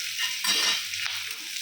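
Sliced onion and curry leaves sizzle loudly in a hot pan while being stirred for mutton keema, a close, steady frying hiss with scraping stirs and no voices.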